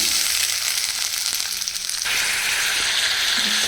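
Squeezed doddapatre leaves hitting a hot pan of oil and pepper, a loud, dense close sizzle that holds steady and flares brighter as the leaves go in.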